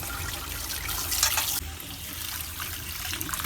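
Salted lamb intestines (mumbar) rinsed under running water, a steady close splash and trickle that briefly swells louder before easing back to a gentler flow, with no voices.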